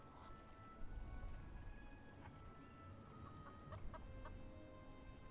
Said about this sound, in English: It was a ramshackle The pun. chicken coop with infrequent clucks emanating from within.